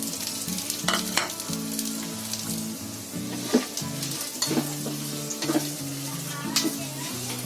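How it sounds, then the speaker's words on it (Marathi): Cumin and garlic fry in hot ghee with a steady, close sizzle, joined by stirring scrapes and a few spoon clinks against the pan; a low tonal backing runs throughout and no one speaks. "आता इथे तूप तापलंय बघा, त्याच्यामध्ये हे सर्व साहित्य आपल्याला एकत्र टाकायचं आहे, भाजून घ्यायचं आहे."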